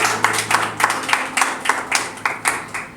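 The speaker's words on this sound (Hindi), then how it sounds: "तालियों से साथ देंगे तो अच्छा लगेगा।" Audience members at a poetry open mic clap along in a steady rhythmic beat, evenly spaced claps repeating about three times a second, fairly close and clear with no talking.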